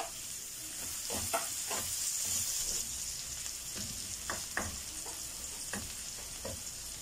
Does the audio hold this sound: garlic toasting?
yes